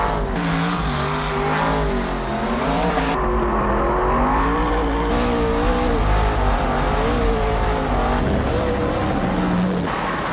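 Ken Block's brutal, self-built car drifts around a helicopter, its engine revving hard and continuously with a rising and falling pitch, close and loud, with tire squeal mixed into the roar.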